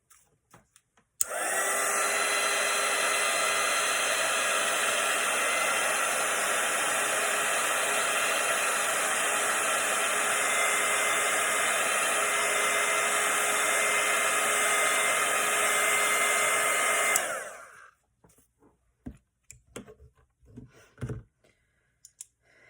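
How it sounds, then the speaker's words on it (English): A hair dryer roars steadily at close range for about sixteen seconds, drying watercolour paint, then cuts off, followed by a few faint clicks and handling noises. "Okay, so I'm gonna just dry this with my dryer."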